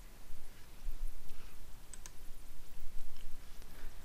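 Computer mouse clicks come from a desk while someone works in a database search interface, a few sharp isolated taps over soft room noise.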